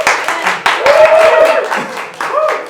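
A small audience clapping in uneven bursts, fairly close, mixed with laughter and talking throughout.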